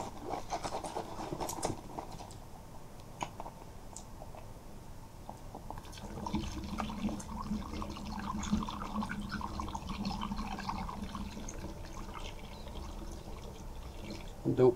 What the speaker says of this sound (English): Next comes our white grape peach juice. Pour a little in.